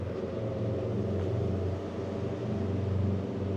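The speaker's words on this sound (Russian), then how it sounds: "Английский автомобиль." An English car passes by on a city street, a steady low engine rumble holding close and fairly loud for a few seconds with no voices.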